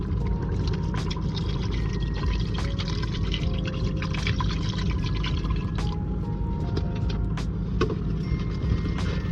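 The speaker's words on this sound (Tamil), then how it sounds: "இந்த ரைஸ் குக்கார அளவுக்கு தண்ணி ஆட் பண்ண போகிறேன்." Water poured into a rice cooker for chicken biryani with basmati rice, a continuous splashing pour with scattered drips and small splashes, close and steady throughout.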